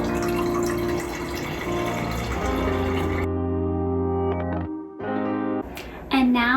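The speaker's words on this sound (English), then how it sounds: "in a big pitcher, go ahead and pour in your orange carrot ginger juice." Orange carrot ginger juice is poured into a big pitcher, a steady gurgling liquid stream that cuts off, with a sustained musical tone running through it.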